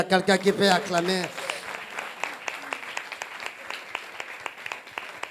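A church congregation at a Sunday service breaks into applause after a preacher's call, preceded by brief speech, then steady, fairly close clapping that gradually thins.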